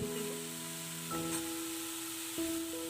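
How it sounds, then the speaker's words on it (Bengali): Beetroot, carrot and potato fry over a high flame, giving a steady soft sizzle with a few light stirring sounds. The background hum has shifting tones. "গ্যাসের ফ্লেমটা হাই রেখে সমস্ত সবজিগুলোকে আমি নেড়েচেড়ে ভেজে নেব।"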